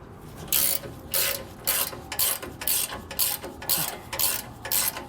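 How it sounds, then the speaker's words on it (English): A ratchet wrench with a 15mm socket loosens the tow hook bolts beneath a 2022 Ford F-150, giving a run of quick, rhythmic clicking bursts close by with no talk. "So we're gonna take a 15mm socket and remove these 2 bolts from the bottom of the tow hook here."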